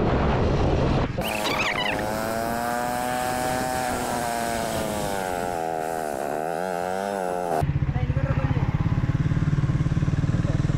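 A 1000cc motorcycle engine runs loudly and steadily, its pitch rising and falling as it revs, with a rougher idle before and after.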